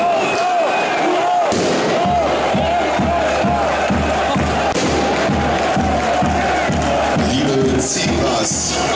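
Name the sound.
fireworks set off by fans in football stadium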